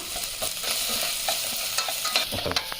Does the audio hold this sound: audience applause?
no